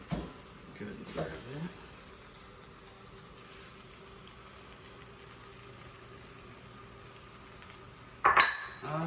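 A spatula stirs fried rice with green onion in a pan: a few quick scraping clinks near the start, a long stretch of quiet low background, then a louder clattering stir at the end.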